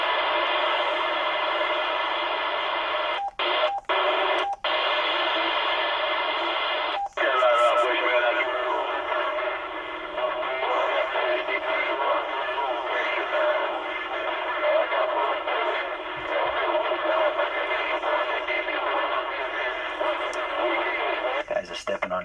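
An AM radio dial is swept across the band during a band scan: a continuous stream of broadcast voices and static, broken by several abrupt dropouts and shifts as stations change.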